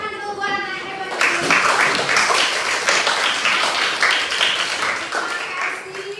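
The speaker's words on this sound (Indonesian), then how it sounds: "Tepuk tangan dulu buat anak hebat ini." Classroom applause from students starts abruptly after a teacher's voice, a dense burst of many hands clapping that holds steady for several seconds, fairly close and loud.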